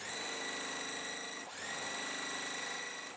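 Sewing machine running steadily while piecing quilt blocks for a flowering quilt pattern, a continuous close whirring hum with a brief dip midway, no talking.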